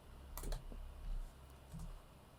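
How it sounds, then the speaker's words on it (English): Short bursts of keyboard typing, a few clustered keystroke clicks, close and soft, repeating at intervals against a quiet room tone with no talking. "I'll type it into the system."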